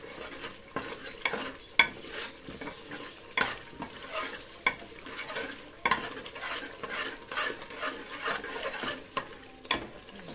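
Rendang with cow-skin krecek being stirred in a pan: repeated scraping and clacking strokes of a utensil against the pan over a steady low sizzle, continuing in an irregular rhythm throughout.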